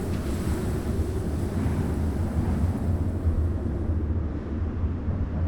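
Storm wind roars in a continuous low buffeting rush over open terrain, loud and close, with gusty surges and no voices.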